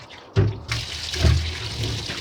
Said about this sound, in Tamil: நம்ம நல்ல தண்ணி ஊற்றி நம்ம வாஷ் பண்ண முடியும்.